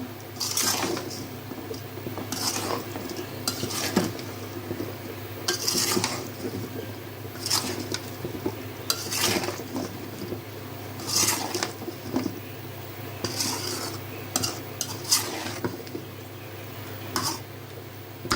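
Fish curry with tomato is stirred in a pan, with soft wet squelches and repeated light scrapes of a utensil against the metal at an uneven, unhurried pace over a low steady hum.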